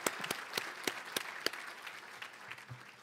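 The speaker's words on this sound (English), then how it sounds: "So another big round of applause for the beautiful venue and the food." Audience applause at a San Marcos State of the City address held at a banquet venue, a moderate crowd clapping with several crisp individual claps up front that thin and fade toward the end.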